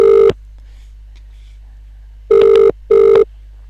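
A telephone line rings back with three loud, evenly pitched electronic ring bursts, the first cut short, separated by silence: a short tone, a long pause, then two closely spaced rings.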